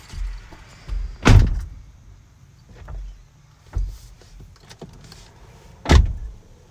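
A school bus pulls up close by at a bus stop, with sharp hissing bursts like air brakes or a door opening, and a low engine rumble between them.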